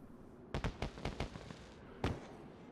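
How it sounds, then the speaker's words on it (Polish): A rapid series of sharp booming pops from fireworks in the video game DayZ, about six bursts in quick succession, a pause, then one more loud blast. "Fajerwerki!"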